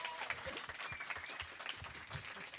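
Quiet, steady applause for Oğulcan, director of a music video, from a small studio audience. The clapping runs evenly throughout, with no voices on top.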